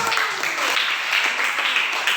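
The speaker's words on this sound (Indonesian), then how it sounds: "Tepuk tangan untuk kelompok 1." A school class claps for a student group, a brief bright patter of small hands with a lively uneven rhythm, fairly close and alone.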